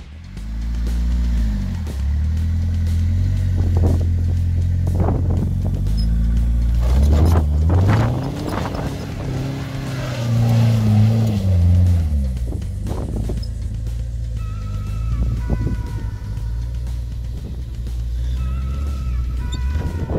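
An off-road car on loose gravel in a Jeep, Land Rover and Dacia comparison, its engine droning loud and close with rising revs and wind buffeting throughout, changing pitch as it pushes through the gravel.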